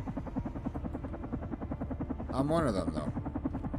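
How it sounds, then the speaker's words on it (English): A helicopter hovers overhead in the video game Carrion, its rotor beating in fast, even thumps that run steadily throughout while someone talks briefly over it. "And I hear the helicopter."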